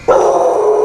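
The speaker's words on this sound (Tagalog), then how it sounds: "May aso." A dog lets out a single loud, drawn-out bark up close, standing alone without other sounds.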